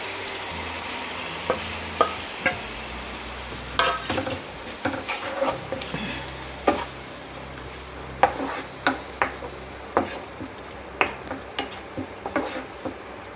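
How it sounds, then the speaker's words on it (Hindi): Tomato puree frying with turmeric and chili powder for paneer capsicum onion curry, a soft steady sizzle broken by repeated sharp scrapes of a spoon stirring against the pan, close and without talk. "इसे हमें जब तक अच्छे से फ्राई करना है टमाटर को सब मसालों के साथ"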